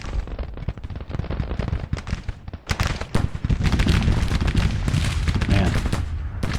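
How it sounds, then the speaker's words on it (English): Massed musket volleys in Grand Tactician: Civil War, a dense crackle of gunfire rolling into a sustained, loud roar of overlapping shots, with no voices. "firing volleys at each other from a few feet away"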